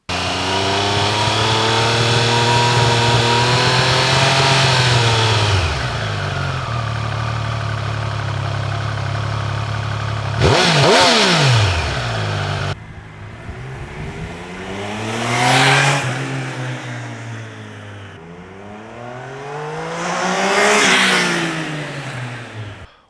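Triumph Tiger Sport 800 motorcycle engine revving up and down through several rising and falling sweeps, fairly loud and close, with a brief sharper burst midway and no talk.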